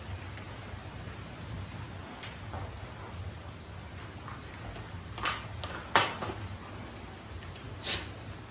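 Light rain falls steadily on an island in the tropics, a faint, even patter with a few louder drops and taps standing out near the end, no voices over it.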